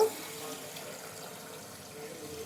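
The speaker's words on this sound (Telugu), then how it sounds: "చూడండి వాటర్ పోసేస్తాను" Water is poured over washed fenugreek seeds in a bowl so they can soak overnight. The pouring and splashing is a soft, steady stream lasting a couple of seconds.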